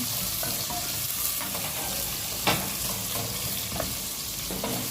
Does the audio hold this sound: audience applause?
no